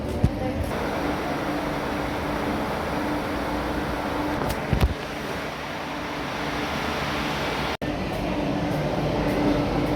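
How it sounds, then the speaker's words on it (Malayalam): Steady low rumble and hiss of Kayamkulam railway station during the busy morning rush, with a few brief knocks and clanks over a constant drone. "ഗൈസ്, അങ്ങനെ നമ്മൾ കായംകുളം റെയിൽവേ സ്റ്റേഷനിൽ വന്നു."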